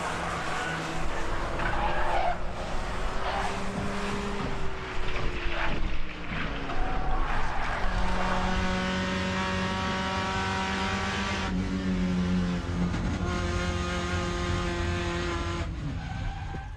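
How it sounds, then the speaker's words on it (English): At a race track, a race car skids into a barrier: a loud tire squeal and skid sweep over roaring engines, with a steady high whine carrying through the second half. "Off goes the 98 car into the barrier."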